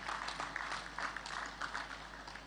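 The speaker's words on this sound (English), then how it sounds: "I think we all deserve a big round of applause for this." An audience claps at a Lagos State bond signing ceremony. The applause is faint and steady, a thin wash of hand claps that carries on for a couple of seconds.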